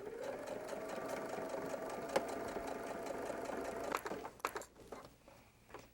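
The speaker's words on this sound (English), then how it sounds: "we'll be flipping to the wrong side of the exterior and sewing directly on top of the previous stitching" Sewing machine stitches through the fabric lining of a quilted dumpling bag, a steady close mechanical whir with rapid needle ticking that slows and stops near the end, followed by a few short clicks.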